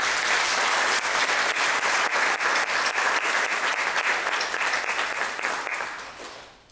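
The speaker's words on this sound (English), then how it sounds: "So I think all our parents and citizens also need a big round of applause." An audience at a middle school ribbon cutting ceremony breaks into a long, loud round of dense applause that holds steady, then gradually thins and fades out at the end.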